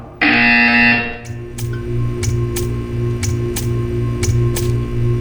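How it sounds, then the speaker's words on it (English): A loud electronic buzzer sounds for under a second in the video game Portal 2, then gives way to a run of sharp, evenly spaced ticks over a low hum. "You will hear a buzzer."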